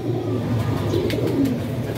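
Light Kagzi pigeons coo softly in a loft, low murmuring calls repeating over a steady background hum, with no voices.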